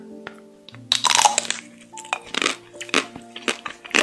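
Crunchy bites of chocolate ice cream with a crisp coating, close up, a burst of crackling around the one-second mark, then repeated sharp crunches and chewing noises with no talking.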